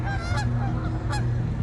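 Canada geese honking at close range, a steady overlapping chorus of calls over a brief stretch, a couple of sharper honks standing out.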